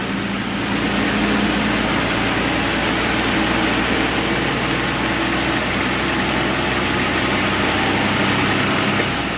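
A vehicle engine running steadily with a 47RH automatic transmission shifting up into third gear, a continuous low, heavy drone that holds loud and even throughout with no talk.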